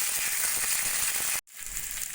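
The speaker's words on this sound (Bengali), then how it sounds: "একটু ভাজা ভাজা করে নেব" Beetroot pieces, two green chillies and coriander stems fry in a pan with a steady, close sizzle that cuts out briefly for a moment before resuming.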